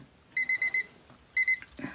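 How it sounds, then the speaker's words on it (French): An electronic alarm clock beeps in a quick burst of four sharp tones, pauses, then sounds two more beeps, clear and close with no talking. "Le réveil."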